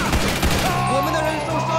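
Rapid bursts of assault-rifle gunfire in GTA 5, with repeated shots close and loud over a low game rumble, while someone talks over the action.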